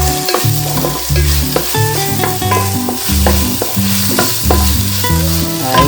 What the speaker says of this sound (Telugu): కరివేపాకు కూడా వేసి ఒక 10 నిమిషాలు వేయించిన తర్వాత